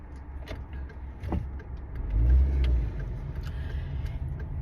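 A car cabin heard from inside on a drive home, with a low steady road rumble and engine hum, a swell of louder rumble midway, and a few small rattles and clicks; no one talks.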